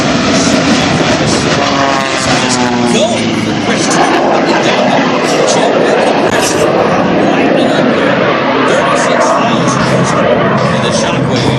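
A Shockwave jet truck races at an air national guard airshow, its jet engines giving a loud, continuous roaring blast that fills the whole stretch while an announcer talks over it.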